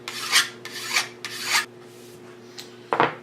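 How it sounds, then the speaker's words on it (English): A metal file drawn at an angle along the edge of aircraft metal trim to deburr it, three close rasping strokes in steady rhythm, then a short final stroke, with no talking. "file at a little bit of an angle and just go down the edge of it to take the burr off of it"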